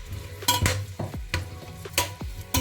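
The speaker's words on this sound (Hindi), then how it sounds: "प्याज को ब्राउन होने तक पकाते हैं" Onions frying in hot cooking oil in a pot, a soft sizzle under loud, sharp spoon clanks and scrapes against the metal every half second or so, close and unaccompanied by speech.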